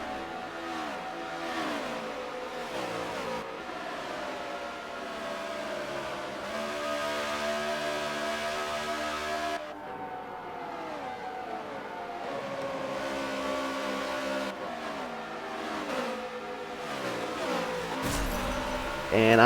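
Race cars circling near the pits in a NASCAR racing video game at Homestead Miami, continuous engine drone with shifting revs and passing cars, steady and fairly loud, with speech over it.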